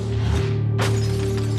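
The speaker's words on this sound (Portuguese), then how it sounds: "Quando a clarabóia estilhaçou" A glass skylight shatters inside an abandoned building overgrown by 30 years of wilderness, a loud sudden crash bursting over a steady low hum and then trailing off into scattered debris.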